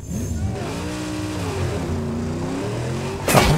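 Engine of a damaged car running on one wheel in the post-apocalyptic driving game Mad Max, a steady droning motor with shifting revs, then a sudden sharp burst of noise at the end.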